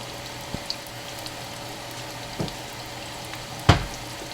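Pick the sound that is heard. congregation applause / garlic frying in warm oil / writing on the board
garlic frying in warm oil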